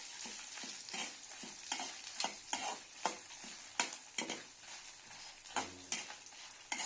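Dry shrimp and dried red chillies frying on a medium flame, with a soft steady sizzle broken by repeated scraping stirs of a spatula, close and fairly quiet, with no voices.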